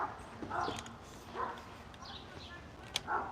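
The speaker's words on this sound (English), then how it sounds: "the dogs are barking at the people that are fighting down there" Dogs barking in short bursts some way off outdoors, a few distinct barks spaced apart with quiet background and faint poultry sounds between them.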